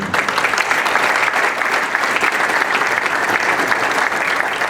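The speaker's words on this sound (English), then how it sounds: "how about a nice round of applause for all of our award winners here this afternoon" An afternoon awards-ceremony audience claps continuously for the award winners, a dense, even wash of applause lasting throughout without pause or speech.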